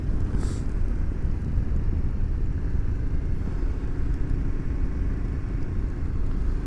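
A Yamaha Ténéré 700 motorcycle leans through an uphill, decreasing-radius sweeping corner, heard as a steady low engine drone with heavy wind rumble on the microphone throughout, no speech.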